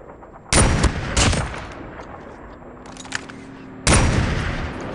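Gunfire in the mobile shooter Call of Duty Mobile: loud, sharp bursts of shots, two quick volleys near the start and another burst near the end, with quieter in-game ambience and faint distant shots between them.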